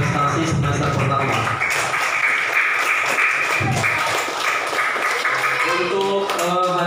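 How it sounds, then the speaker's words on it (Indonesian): Students and teachers at a madrasah report-card ceremony give a sustained round of clapping for classmates' first-semester achievements, steady and fairly loud throughout, with voices mixed in. "kasih tepuk tangan buat teman-teman kita yang berprestasi semester pertama"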